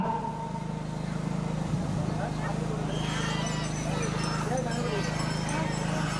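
Hooves of painted, decorated bulls clop at the Dhameli ploughing race (ghati category), buried in a noisy outdoor crowd with a steady low drone and continuous talking.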